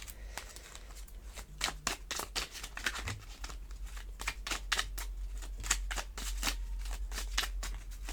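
Tarot cards being shuffled and picked, a steady run of crisp, rapid riffling snaps and flicks, close and fairly loud throughout with no talking.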